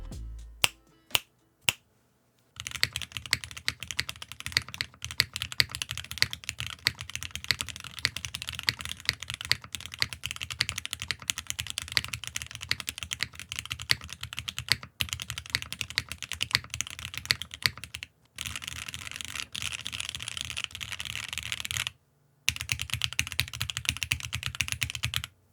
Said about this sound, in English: let's go to the stock typing sound so you can hear what I'm talking about.